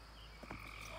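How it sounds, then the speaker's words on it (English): Frogs and toads at a backyard pond in spring, with a single brief croak standing out over a steady chorus of calls. "you can hear all of the frogs right now and the toads"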